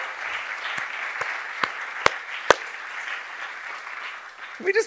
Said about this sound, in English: One more round of applause for Tayi Tibble.